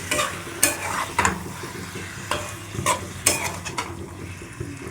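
Spices being mixed and stirred in a frying pan, a busy sizzle under repeated scraping strokes and metallic clinks of a utensil against the pan, close and fairly loud.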